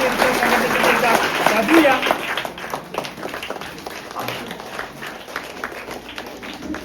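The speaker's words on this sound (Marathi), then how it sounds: "जोरदार टाळ्या" Loud applause from an audience at a village fish market opening event, dense clapping that is strongest at the start and gradually thins out, with voices mixed in.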